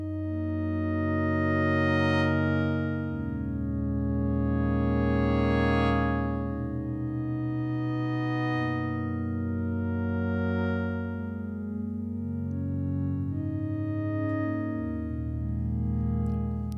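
A lush ambient pad on a Novation Peak synthesizer, patched from PPG-style wavetables with a slow attack, sustains a smooth, steady stack of chords that gently swell and shift for the full duration, alone and without any talking.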